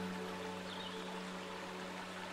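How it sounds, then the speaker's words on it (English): Water from a small brook washes steadily over rocks below, a continuous soft rushing and trickling with no voices. "You hear water from it washing over the rocks below."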